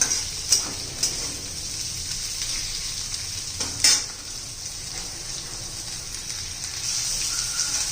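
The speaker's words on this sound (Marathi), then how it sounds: "छान अशी मिरची शिजून घ्यायची आहे आपल्याला" Green chili pieces fry in a pan with a steady, close sizzle throughout, broken by a few sharp ticks and clinks of stirring.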